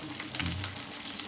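Chopped onions with a pinch of salt fry in a pan, making a soft, continuous low sizzle that stays faint and even for a brief moment, with no voices.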